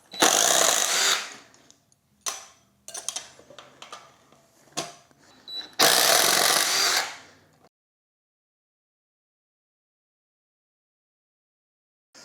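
Close bursts of a power drill spinning a Scotch-Brite pad against bolt hardware to strip old Loctite during a dirt bike chain and sprocket change, several whirring runs of varying length, then silence.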